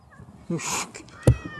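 Close cat meow, a short whining cry followed by a sharper quick call, against quiet outdoor camping background noise.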